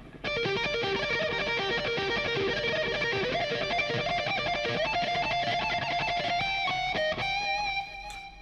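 Distorted electric guitar plays a fast, palm-muted arpeggio solo, rapid picked notes cascading continuously and loud, with a bend near the end and no talking.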